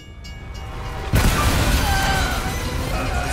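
A train in a Call of Duty zombies map rumbles in with a sudden loud crash after a quiet moment, then roars steadily with a deep rolling drone and a faint horn-like tone.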